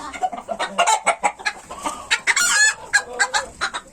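Chickens cluck in quick, repeated bursts close by while a rooster crows partway through, the farmyard calls loud and busy over a short stretch.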